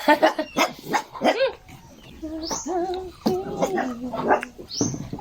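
Hungry puppies yip and bark at feeding time in quick, high-pitched bursts close by, with a person's voice talking among them.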